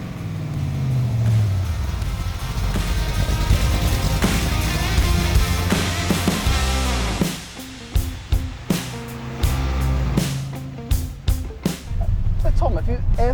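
A De Tomaso Pantera drives off, its engine loud and droning, with uneven revs and gear changes and the sound dropping and surging in steps toward the end.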